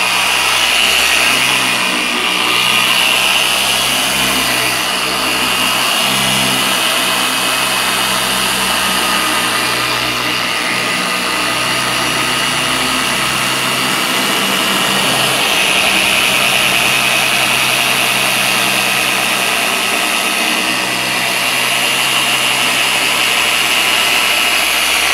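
Machine polisher with a pad spreading Force Field Pro coating on a surface, a steady loud whirring drone running without pause throughout.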